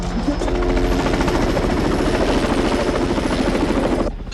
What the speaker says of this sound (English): You just stole my helicopter.